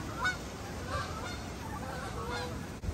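Canada geese honking as a flock flies overhead, several distinct honks at a moderate distance over quiet outdoor background.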